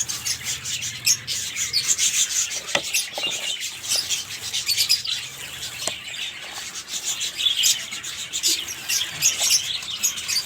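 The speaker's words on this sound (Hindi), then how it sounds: "बैकग्राउंड से आवाज़ें आ रही होंगी परिंदों की" Birds chirp and tweet continuously from a short distance in a kitchen garden, forming a busy, moderately loud layer of calls with soft rustling and no talk.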